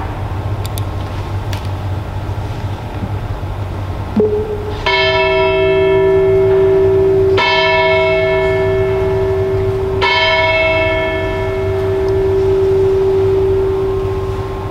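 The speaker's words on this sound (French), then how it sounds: "je vais commencer par la sonnerie des heures qui se fait sur la moyenne des cloches" A church bell tuned to F strikes the hours at a church in Échauffour, three loud, evenly spaced bronze strokes, each ringing on and decaying before the next, after a quieter room tone.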